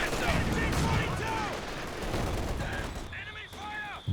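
Machine gun fire crackles through a Company of Heroes 2 battle, a dense, continuous stutter of shots mixed with other battle noise under a commentator's talk.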